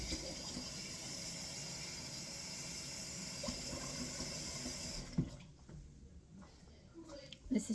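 Room-temperature tap water pouring steadily into sloppy sourdough bread dough for about five seconds, then stopping, followed by a few faint knocks and handling sounds.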